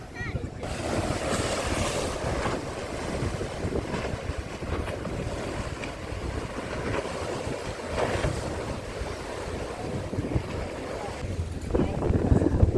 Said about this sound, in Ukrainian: вітер посилюється